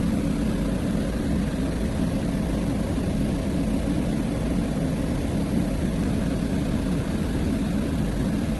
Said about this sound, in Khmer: ឥឡូវយើងតាមដានទៅមើលម៉ាស៊ីនកាត់បងប្អូនស្ដាប់សំឡេងទាំងអស់គ្នា